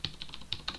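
A password is typed on a computer keyboard, then Enter is pressed: a quick burst of about five crisp keystroke clicks, close and moderately quiet, with uneven spacing.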